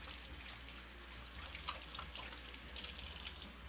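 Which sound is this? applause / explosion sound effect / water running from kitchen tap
water running from kitchen tap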